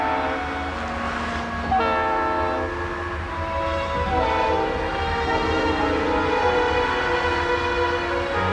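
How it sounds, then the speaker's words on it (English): A freight train horn sounds in long sustained blasts with shifting pitch, loud and fairly near, over a steady rumble of rolling rail cars. "The whistle of a freight train seemed to beckon Jerry, inviting him to ride the rails"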